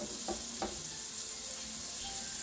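Veal saltimbocca wrapped in prosciutto fries in a pan, an even, moderately quiet sizzle that runs steadily throughout with a couple of light early taps.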